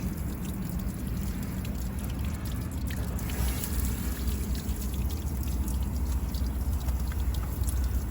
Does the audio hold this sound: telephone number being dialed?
no